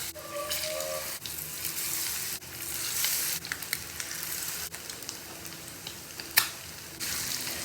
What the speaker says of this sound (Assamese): এতিয়া কণীকেইটা বেচনত ডুবাই ভাজি ল'ব লাগিব।